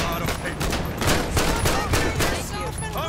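Rapid bursts of gunfire crackle in the police mod for the video game GTA 5, several sharp shots stacked close together over a low game background, with someone speaking briefly alongside.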